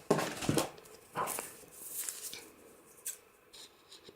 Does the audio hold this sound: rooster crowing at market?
no